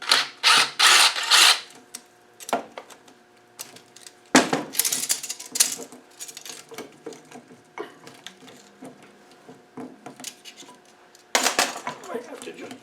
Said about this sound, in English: Now we can undo the hose clip